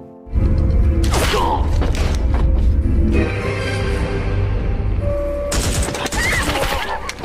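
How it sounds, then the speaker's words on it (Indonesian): Gunfire from a sniper revenge action film erupts in a loud sustained fusillade with sharp bursts and booms, layered over dramatic soundtrack tones and effects. "Darong berhasil menemukannya dan menembaknya sampai terbunuh"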